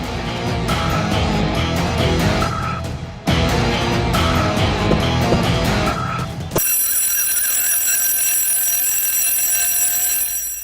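An alarm clock rings loudly in steady repeated bursts, with a brief break, then gives way to a sustained high electronic tone, close and without talk.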